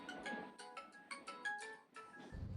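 A phone ringtone plays a bright, repeating electronic melody in short bursts, fairly quiet against a hushed background.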